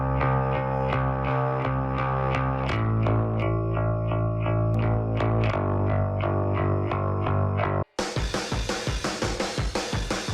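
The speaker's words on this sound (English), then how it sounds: "it can also deliver dense and dirty distortion effects to single tracks as well" IVGI free saturation plugin applied to a music track, dense dirty distortion over sustained chords, then an abrupt cut and a harsher, crunchier rhythmic passage in the last seconds.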